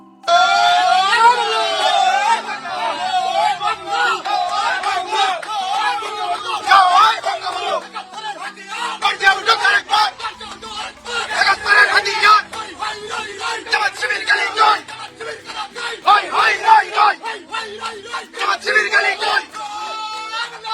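A crowd of Chhatra League supporters chanting election victory slogans, loud rhythmic shouted call-and-response bursts from many voices, continuing steadily and close throughout.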